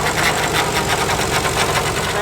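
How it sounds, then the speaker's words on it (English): A 1990 Nissan 300ZX Turbo engine runs with a noisy power steering pump, giving a rough, rhythmic whirring and knocking drone that stays steady and close, with no talk. "you can hear how horrible the power steering pump sounds"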